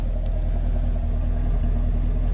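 A 2019 Camaro SS engine with the secondary catalytic converters deleted, idling in track mode with a deep, steady rumble and a fast, even pulse, close and continuous.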